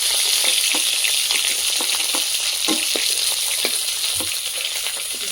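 Large snakehead fish pieces fry in hot oil, a continuous bright sizzle with scattered crackles and spatters, close and steady with no talking.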